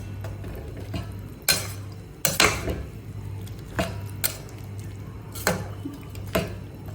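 A ladle stirs potato masala curry in a cooking pot with sharp, irregular scrapes and clanks against the metal, about eight distinct strokes over a low background hum.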